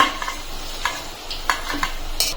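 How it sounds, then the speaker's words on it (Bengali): Fried bitter gourd pieces are lifted out of hot oil with a utensil, giving a faint ongoing sizzle broken by several distinct scraping and clinking strokes against the pan, close and without talk. "উচ্ছেগুলো আমি ভালো করে ভেজে নিয়েছি, এখন তুলে নেবো।"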